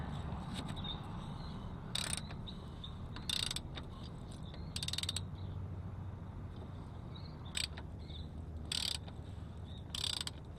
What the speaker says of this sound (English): Now I'm going to use my special service tool here.